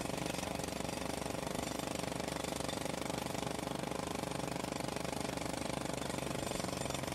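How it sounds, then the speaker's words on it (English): A jackhammer runs continuously nearby, a loud, steady, rapid rattling hammering that keeps going unbroken for the whole seven seconds, with no talking heard over it. "There was a jackhammer going on. I couldn't hear you."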